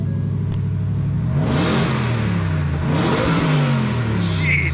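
The 5.2-liter V8 in a 700-horsepower Ford F-150 Raptor R revs hard twice, climbing into a loud, gruff roar each time and then settling back to a rumbling idle, heard up close.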